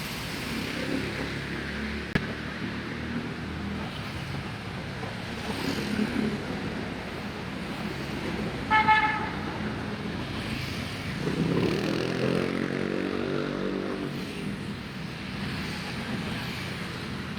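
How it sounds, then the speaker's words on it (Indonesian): Busy road traffic on Kalimalang in Bekasi rolls past as a continuous rumble with wind buffeting the microphone, a short horn honk sounding midway and a heavier vehicle passing later. "Untuk lalu lintas saat ini ramai lancar ya."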